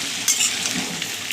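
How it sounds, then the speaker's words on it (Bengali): Ginger paste frying in a pan for a vegetarian pea-lentil fritter curry gives a loud, continuous close-up sizzle with a brief spattering burst and light stirring. "এবার একটু ভাজা ভাজা করে নিই"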